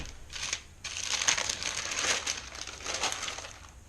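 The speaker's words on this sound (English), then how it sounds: "I usually add another piece of parchment on top and just smush it down" Parchment paper crinkles and crunches as it is pressed down by hand onto laminated dough, a close, soft rustling in several uneven bursts.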